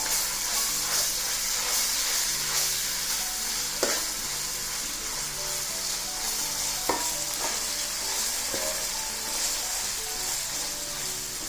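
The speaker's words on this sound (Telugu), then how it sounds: "ఒక్క స్పూనున్నర వేస్తున్నానండి అల్లం వెల్లుల్లి పేస్టు. దాన్ని కూడా దోరగా వేగనిద్దాం." Ginger garlic paste fries in a pan for a fish pulusu, giving a steady, close sizzle with a few sharp pops and scrapes as it is stirred. No one speaks.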